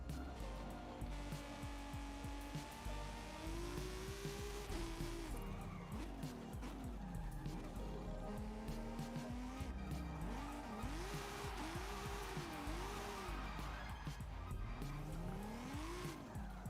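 Lamborghini in Forza Horizon 5 on a rally route, engine note rising and falling through repeated revs and shifts while tires squeal during drifting; loud and continuous throughout, no talking.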